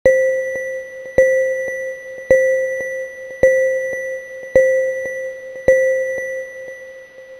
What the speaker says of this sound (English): If you hear the following bell, that signals the end of a safety drill.